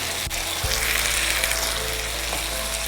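Chicken pieces with a little of their cooking liquid sizzle and fry steadily in masala for a chicken masala fry, a continuous close hiss with a couple of brief stirring knocks near the start.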